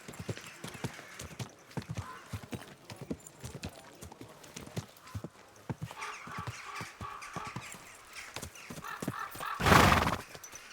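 Hooves clip-clop in a steady, uneven rhythm on a hard surface in the video game Kingdom Come: Deliverance 2, followed near the end by a loud horse whinny.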